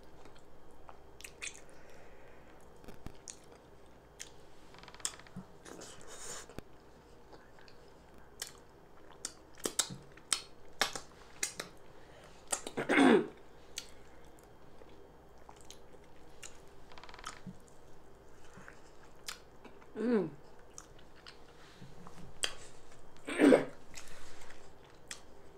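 Someone eating beef with fufu and egusi stew, soft wet chewing and squishing with a few sharper crunchy bites scattered through, close and quiet with low background noise.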